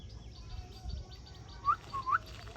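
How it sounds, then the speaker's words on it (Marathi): A pet parrot gives a few short rising whistled calls over a low indoor background hum, the calls clear but brief and spaced apart. "तर मित्रांनो कसा वाटलं तुम्हाला आमचा पोपट"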